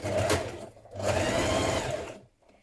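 A sewing machine stitches back and forth across a dungarees seam, two close whirring runs of its motor with a brief pause between them, then stopping.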